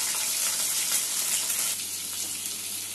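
Bitter gourd slices drop into hot oil already tempered with spices. A loud, steady hiss and sizzle of frying up close, easing slightly partway through.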